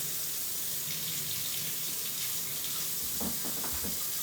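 Hot water pours steadily from a kitchen tap into a small lime bowl, a continuous close rushing splash with a few brief clunks near the end and no voices.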